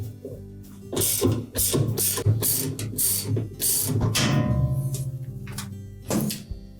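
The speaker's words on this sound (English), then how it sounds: "So using some extensions and a socket, you'll need to hold that agitator from turning." A socket wrench with extensions works the bolt at the bottom of a Whirlpool washer agitator. Close metallic clanks and clicks come in irregular bursts, then a run of quick ratcheting clicks and a final knock.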